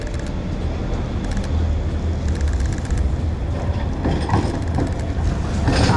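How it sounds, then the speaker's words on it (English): A tram rumbles past close by on a city street with a steady, loud roar and clattering wheels on the rails, no voices. "Oh, we've got another tram here."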